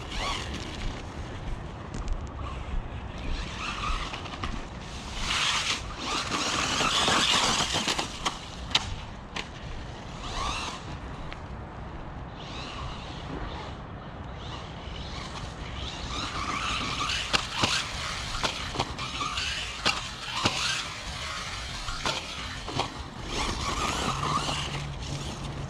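An MJX Hyper Go RC car on a 3S battery races about at high speed, its motor whining and tires scrubbing and squealing in repeated bursts, fading and returning as it passes at varying distances.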